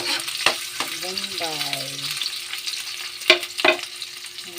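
Garlic and leafy onion greens sauté in a hot pan, with a steady sizzle broken by sharp stirring clatters. A brief tone rises and falls partway through, and a voice speaks faintly.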